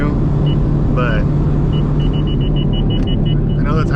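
An 800whp procharged Camaro on drag radials accelerating hard, a loud, steady engine rumble with a rising whine heard from inside the car, while a person talks over it.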